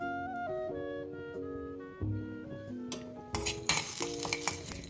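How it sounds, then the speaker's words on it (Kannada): Chana dal and urad dal dry-roast in a pan while a spoon stirs and scrapes in irregular strokes, with light crackling growing toward the end and soft instrumental music underneath. "1 ಸ್ಪೂನಷ್ಟು ಕಡಲೆಬೇಳೆ, 1 ಸ್ಪೂನಷ್ಟು ಉದ್ದಿನಬೇಳೆ, ಇದೆರಡನ್ನು ರೋಸ್ಟ್ ಮಾಡ್ಕೊಳ್ಳೋಣ"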